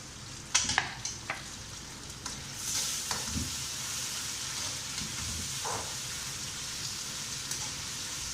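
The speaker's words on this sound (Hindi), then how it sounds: "प्याज को हम हल्का सा फ्राई करेंगे।" Onions frying lightly in a pan for a chicken recipe: a soft, continuous sizzle with a few sharp clinks and scrapes of stirring early on, close but fairly quiet.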